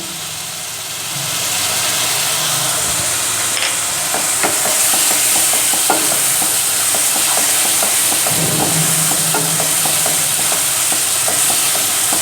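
Spice masala for chicken keema is stir-fried in a pan, a loud constant sizzle overlaid with repeated spatula scrapes and taps, close and busy, with a low background hum and no talking.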